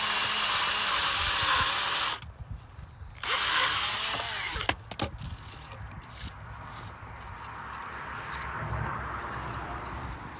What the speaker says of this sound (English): So I'm going to drill all these holes